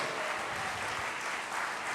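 Steady audience applause at a conference main stage, a dense wash of clapping at moderate volume continuing without a break.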